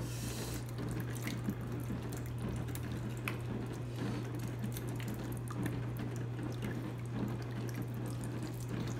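Fermented plant juice drains out of a container in a steady, soft trickle and splash that runs on for several seconds without a break, faint and close by, with a low hum beneath it.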